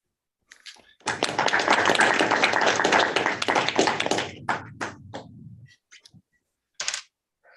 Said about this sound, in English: Let's give Chi another round of applause